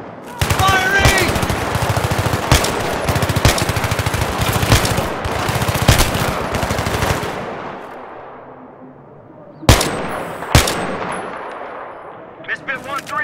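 Sustained rapid machine-gun fire from Battlefield 3 for about seven seconds, loud and close, fading into a low rumble before a few more sharp single shots near the end.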